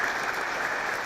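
A standing crowd claps loudly and continuously in tribute at a police award ceremony honoring a fallen officer, an even roar of applause throughout.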